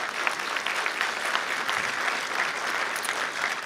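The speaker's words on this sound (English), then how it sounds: "So y'all halfway clap for them just a little bit," An audience at a community meeting gives steady, moderate applause for several seconds with no break and no voices over it.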